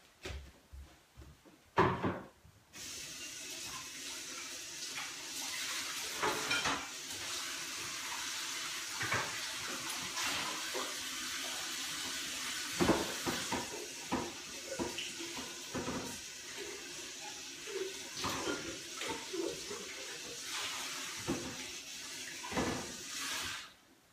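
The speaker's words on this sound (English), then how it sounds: "I just have to wash this blender." Water runs steadily from a kitchen tap while a blender jug is rinsed after making nut milk, with knocks and clatters of the jug against the sink throughout, close and fairly loud.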